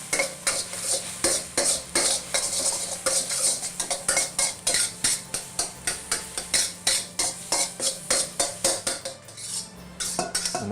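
Egg scrambles in oil in a wok, with a rapid, regular series of metal spatula strikes and scrapes against the pan over a low sizzle, close and busy throughout.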